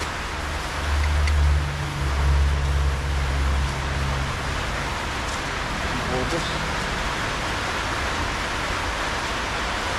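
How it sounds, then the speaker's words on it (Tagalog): Heavy rain falling as a dense, constant hiss of broadband noise that fills the whole stretch, with people talking over it. "Lakas naman sa atin yung ulan."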